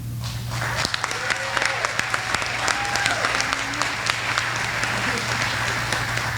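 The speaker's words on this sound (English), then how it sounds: "don't forget to clap when you hear your people walk across the stage" Diners at a service awards dinner applaud a sheriff's office employee as he crosses the stage, a thick, continuous crowd clapping over a low steady hum, with a few sharper claps standing out.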